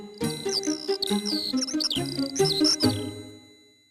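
Bluebird calls come as a close, clear series of bright chirping, warbling phrases in quick succession, with a soft musical backing underneath that fades at the end.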